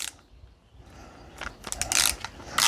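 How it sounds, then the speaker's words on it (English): A small ratchet fitted with a 4mm Allen key bit undoes bolts on a DeWalt 18V strimmer, giving a few irregular close clicks and rasps. Handling noise mixes in and the clicks get louder toward the end. "You need a little ratchet because it's gonna be a bit tight."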